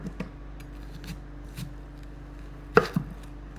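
A knife cuts vegetables into pieces about one inch thick on a cutting board, giving a few sparse, separate taps and thuds, with one sharper, louder chop near the end.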